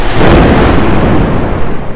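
A volcanic explosion at a volcano rim sends out a loud, deep, rolling boom that stays heavy throughout the moment, with no talking.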